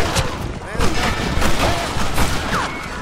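Rifle shots and gunfire in a Red Dead Redemption shootout around a house, several sharp reports spread across a dense, noisy battle mix with voices shouting underneath.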